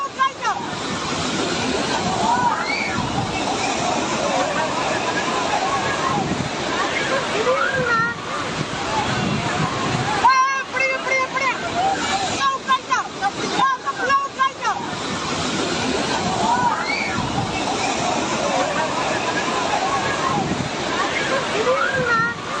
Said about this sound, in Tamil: பழைய குற்றாலம் அருவியில் வெள்ளப்பெருக்கில் அடித்து செல்லப்பட்ட 17 வயது சிறுவன் அஸ்வின்